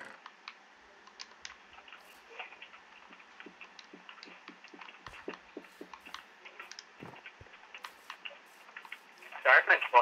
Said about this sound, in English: Sorry if my button's clicking so loud.